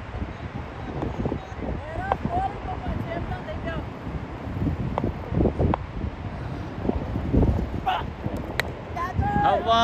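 Strong gusts buffet the microphone at an outdoor street tape-ball cricket match in Dubai, rough low rumbling wind noise throughout, with someone commentating over it and faint background voices.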